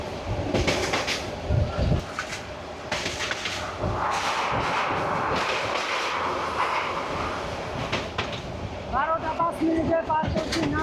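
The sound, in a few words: Tista Express train running on the rails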